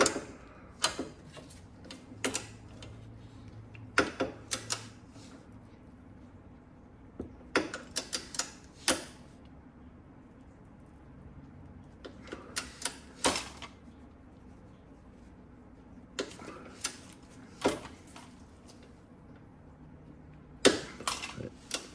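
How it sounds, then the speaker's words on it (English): Sharp clicks from a torque wrench tightening adjustable caster bushing arms on a Porsche GT3RS to 22 newton meters, heard as short isolated bursts and small clusters spaced a few seconds apart against a quiet, faint background. "that a clicking torque wrench? Yep."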